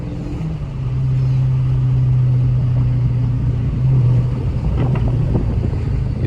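A Dodge ScatPack's engine holds a steady, droning rev as the car drives in the rain, with the tone swelling and falling slightly under loud road and wet-tire rumble.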